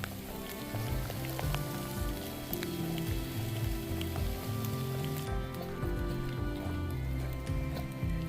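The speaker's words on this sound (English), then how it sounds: "And the rain has started." Rain patters steadily on the Appalachian Trail during a Pennsylvania section hike near Pine Grove and Quarry Gap, a continuous fine hiss of drops on leaves and ground, close and fairly quiet throughout.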